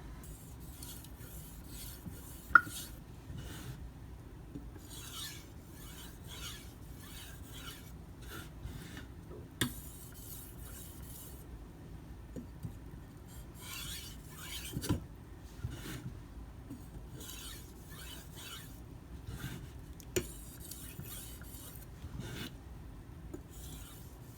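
A Karaku AS gyuto 210mm kitchen knife scrapes across a sharpening stone in repeated gritty strokes, with intermittent rasping bursts and occasional sharper ticks, fairly quiet and close, with no voices.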